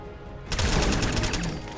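Rapid automatic gunfire from a modded weapon with a faster fire rate in Fallout 4, a loud, dense burst of closely spaced shots that erupts after a short quiet lead-in and keeps going to the end.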